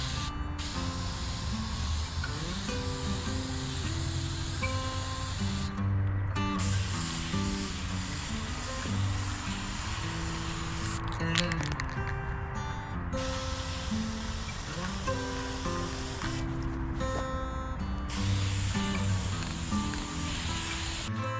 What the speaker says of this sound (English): we're going to go put a black spray lacquer on the face of that